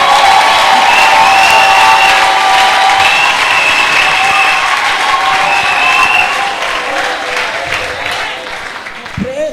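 Church congregation applauding at a testimony service, sustained loud clapping from a large crowd with some cheers and shouts mixed in, tapering slightly toward the end.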